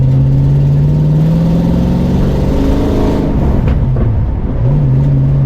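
A 1967 Ford Mustang Fastback's engine revs up close and loud, its steady drone climbing in pitch, dropping briefly, then rising again, with no talking.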